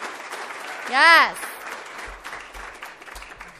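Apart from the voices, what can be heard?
audience applause at a chamber of commerce event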